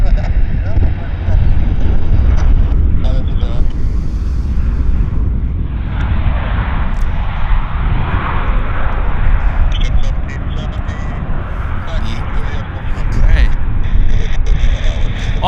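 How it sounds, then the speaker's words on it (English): A Dash 8 turboprop airplane lands at Vancouver airport, heard as a loud, steady engine roar and rumble mixed with heavy wind noise on the microphone throughout. "He did say we had a Dash 8 landing on this side."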